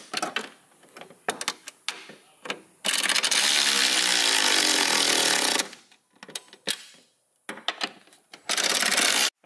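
A power tool tightens the upper bolts of a cheap coilover with dampening adjustment during installation, giving one long loud whirring run and several shorter bursts between quieter clanks, close by.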